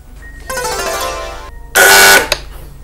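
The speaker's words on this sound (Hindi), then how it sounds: "किसने बजर दबाया?" A quiz show buzzer on an Urdu-language literary quiz programme sounds twice: first a long tonal buzz of about a second, then after a short gap a louder, brighter blast before it cuts off, with no talking over it.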